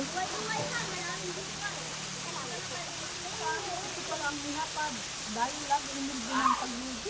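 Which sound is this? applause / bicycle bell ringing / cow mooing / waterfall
waterfall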